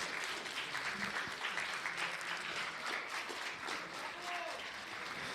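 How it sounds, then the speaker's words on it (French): Audience applause at a project presentation event, steady broadband clapping from a crowd lasting several seconds at moderate volume, with faint voices mixed underneath. "applaudissez-les"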